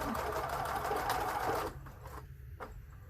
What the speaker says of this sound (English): I'm going to back up and just do a little bit of back stitching right there